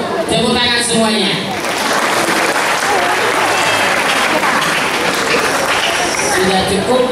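Loud, sustained applause fills an audience hall during a new-student orientation session at an Islamic boarding school, with a voice briefly audible at the start before steady clapping continues throughout.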